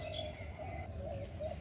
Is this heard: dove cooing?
yes